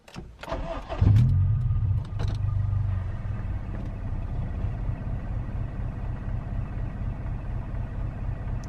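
A Honda Civic EP3 cranks and fires on a cold start, a short starter whir catching into a loud rev flare, then settling into a steady, close idle with no talk.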